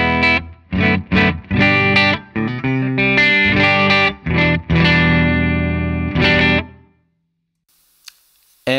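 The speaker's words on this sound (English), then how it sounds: "on a completely clean setting, which sounds like this. None of the pedals are on." Electric guitar played through a Rev D20 amp on a completely clean setting with no pedals engaged, strummed chords ringing out loud and alone for about seven seconds before fading to silence.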